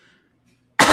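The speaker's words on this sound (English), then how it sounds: "she starts coughing like this" A woman gives a single sharp, close cough at the end, after a near-silent stretch with faint background voices.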